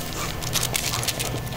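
An excited tracking dog on a short training trail lets out high, breathy whimpers and whines in quick repeated bursts. It is close by and moderately loud over steady outdoor background noise.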